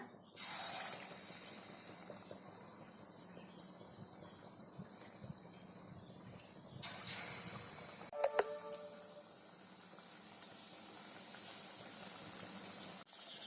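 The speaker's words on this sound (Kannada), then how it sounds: "ಈಗ ನಾವು ಒಂದೊಂದಾಗಿ ಹಿಟ್ಟಿಗೆ ಡಿಪ್ ಮಾಡಿಕೊಂಡು ಬಜ್ಜಿಗಳನ್ನು ಹಾಕೊಳ್ಳೋಣ" Batter-dipped ridge gourd bajji frying in hot oil, a long steady hiss with a few sharper bursts as pieces go in, no talk.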